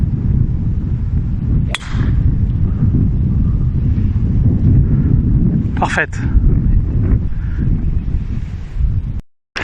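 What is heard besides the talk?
wind blowing on a golf course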